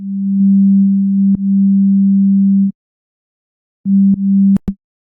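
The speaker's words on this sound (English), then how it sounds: "Then we have vocode." A steady synthetic tone with a buzzy, vocoded character, held for a few seconds, then a pause before a shorter burst ending in clicks.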